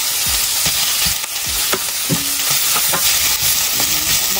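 Butter sizzling and frying in a hot pan during home cooking, a loud steady hiss with occasional stirring scrapes and clinks throughout.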